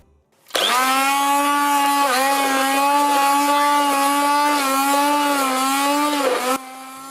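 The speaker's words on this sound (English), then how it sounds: "start to blend" A countertop blender whirs steadily for about six seconds, loud and close, pureeing cooked vegetables and broth into a creamy passato soup, its motor tone dipping slightly as the load shifts before cutting off.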